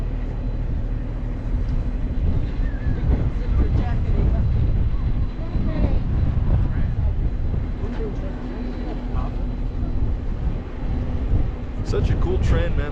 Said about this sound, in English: Such a cool train, man.